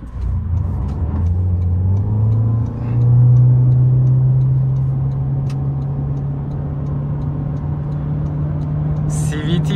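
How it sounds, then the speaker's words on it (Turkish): A car with a CVT transmission accelerates from 0 to 100 in sport mode, its engine droning up to a steady, rising whine that holds a constant pitch without gear shifts, loud and close, with a voice talking briefly over it. "Evet, şimdi bir de 0-100 denemesi yapacağız sizler için. Arabayı spor moda alıyorum ilk önce."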